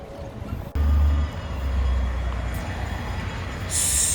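Napa Valley wine train rolling past, a loud sudden low rumble that settles into continuous rail noise, with a brighter hiss rising near the end.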